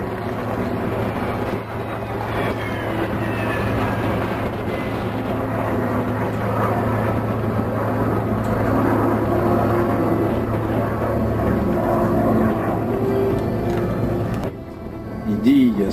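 A solo aerobatic propeller plane flies at an airshow in Rennes, a steady engine drone with passing pitch shifts heard at middle distance under crowd and ambience, fading briefly near the end.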